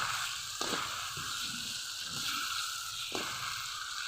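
Bottle gourd being sautéed with spices in a pan gives a steady sizzle throughout, broken by a few soft stirring scrapes, close and moderately loud with no talking.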